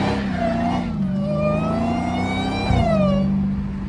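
A Dodge Hellcat accelerates hard from a green light with traction control off, its engine howling in long rising revs that dip and climb again, loud and close throughout.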